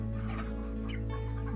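Chickens clucking in a village setting, a few soft clucks and calls over a steady low hum, fairly faint and continuous without talk.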